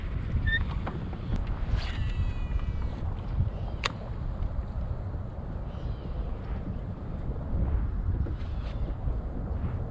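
Steady wind gusting across open water around a bass-fishing boat, a low continuous rumble with faint knocks and rattles near the microphone.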